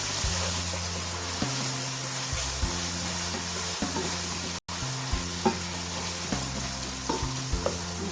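Onions fry in a pan for kebab rolls, cooking to a light brown while a spoon stirs them with repeated scraping strokes over a steady close sizzle. No one speaks.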